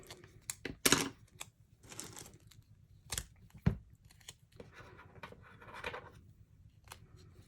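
Scissors snipping paper or cardstock for magnet preparation in a craft room, a few sharp close cuts with crinkling handling noises between them, no talking.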